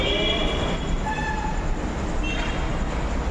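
A metro train running on an elevated bridge near a mall at night gives a loud, steady rumble and rail roar with faint high wheel squeals.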